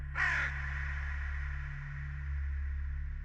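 A single raven's harsh, croaking caw sounds close and loud as a sound effect in a binaural spoken-word piece, fading into a long reverberant tail over a steady low hum.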